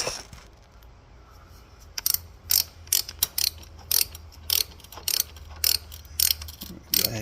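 A ratchet clicks in quick bursts while bolts are snugged on the rear brake pedal of a Harley-Davidson Sportster, about a dozen sharp, close ratcheting strokes in an uneven rhythm, with no talk.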